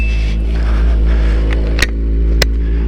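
A 2014 Kawasaki Ninja ZX-14R motorcycle engine idles loud and close with a deep, steady low rumble, broken by a couple of sharp clicks.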